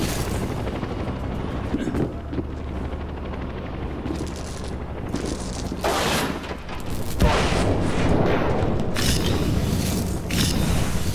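Helicopter in the video game inFAMOUS Second Son, a loud continuous rotor and engine drone mixed with bursts of gunfire, booms and mechanical clatter throughout, with a voice talking in places.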